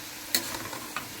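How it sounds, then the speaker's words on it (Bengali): Sweet jaggery pitha fries in oil in a pan with a soft, steady sizzle, broken by two sharp clinks of a utensil stirring or turning the pieces. "এখানে ভাজা হচ্ছে"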